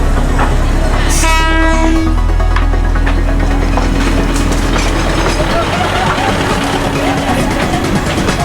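A train rolls slowly through the Bangkok railway market, its horn blaring loudly at the start before a steady, heavy rumble and rattle of wagons continues close by throughout.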